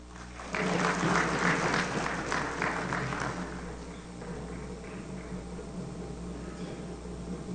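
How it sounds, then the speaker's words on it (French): Audience applause at the opening ceremony of a CARICOM heads of government meeting in Port-au-Prince, starting abruptly as a loud burst of clapping, then settling into quieter, thinner applause that continues to the end. "Sous vos applaudissements, s'il vous plaît."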